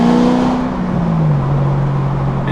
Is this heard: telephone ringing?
no